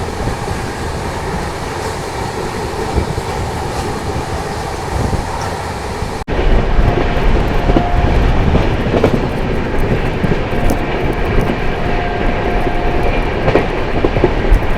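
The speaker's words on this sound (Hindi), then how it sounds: "अभी तो हमारी ट्रेन राइट टाइम में चल रही है" A Yesvantpur Duronto Express train runs on rails, giving a steady, loud rumble with rhythmic clatter throughout. A sudden jump in loudness comes about midway through, with no talking.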